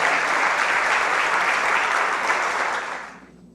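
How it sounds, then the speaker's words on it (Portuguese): A church congregation at a Portuguese-language worship service applauds in praise to God, a thick burst of many hands clapping together that holds steady, then fades out quickly near the end. "aplaudindo o nosso Deus"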